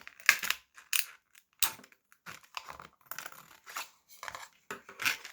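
Scissors cutting through plastic for a homemade mask insert, a series of sharp crisp snips and crinkles in separate bursts with short silent gaps, close up.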